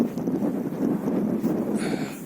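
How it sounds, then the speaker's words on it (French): Strong outdoor wind buffets the microphone in a continuous low, rumbling roar with gusty swells throughout, loud and close, with no voice heard. "Mais il y a beaucoup de vent, on peut pas m'entendre."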